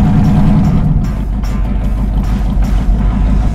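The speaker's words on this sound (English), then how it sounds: "The engine sounds good." A vehicle engine idles and runs with a steady low rumble and a faint throb that stays even throughout, with no talking over it.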